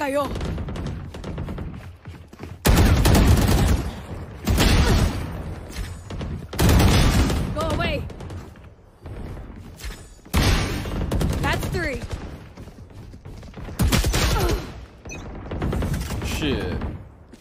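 Bursts of gunfire in a Valorant deathmatch come in repeated loud volleys of rapid shots separated by brief quieter gaps, with a player's voice talking between them.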